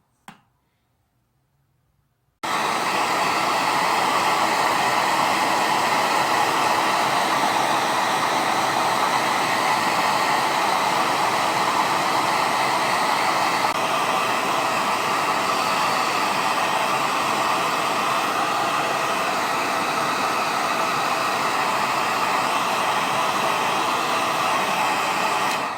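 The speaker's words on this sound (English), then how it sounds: "Now, take the hairdryer and blow that" A hair dryer blows steady, loud broadband air over freshly blended paint on a handmade Harry Potter style prop magic wand, beginning abruptly after a brief silent pause and continuing unbroken to the end.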